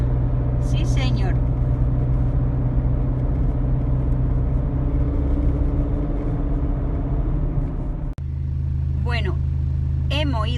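A Mercedes C220 CDI with its engine fault repaired, driving on a test drive with a steady low engine rumble and road noise throughout, while people talk over it.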